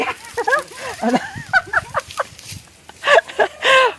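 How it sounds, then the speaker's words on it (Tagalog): Native chickens cluck and squawk in quick, choppy bursts close by, with a louder rising call near the end. "Dira manok guys."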